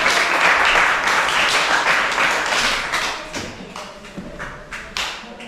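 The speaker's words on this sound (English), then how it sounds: "Can we give her a round of applause?" At a youth club public speaking competition, audience applause breaks out, loud at first and then thinning into scattered claps and taps.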